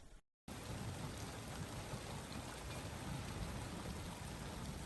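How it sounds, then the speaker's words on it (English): Summer storm rain pours down steadily and densely after a heat wave, a loud continuous wash of drops that starts abruptly after a short silence. "the build-up of summer storms finally release some rain"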